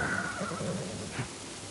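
A horse in the video game Black Myth: Wukong gives a single short whinny that rises then falls, fairly close and clear, followed by a brief snort-like sound.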